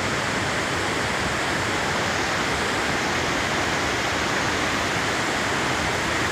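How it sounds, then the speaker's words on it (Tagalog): Hattebergfossen waterfall in Norway, running heavy after rain, gives a loud, steady rush of flowing water heard close by, an unbroken broadband roar with no other sounds. "Wala ka masyadong maririnig dito, kundi yung daloy ng tubig."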